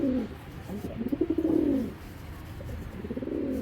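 Giribaz pigeons coo close by in three rolling, throbbing bursts with short pauses between them, the middle one loudest, and no talk over them.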